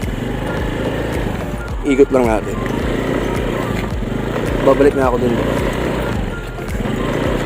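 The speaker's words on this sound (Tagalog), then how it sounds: "So medyo maingay nga pala yung tunog ng motor kasi nakakalkal na yung pipe niya." A Honda Genio 110 scooter with a loose, rattling exhaust pipe runs loudly and steadily close by while riding, its engine drone continuous under someone talking briefly.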